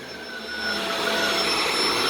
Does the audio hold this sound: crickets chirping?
no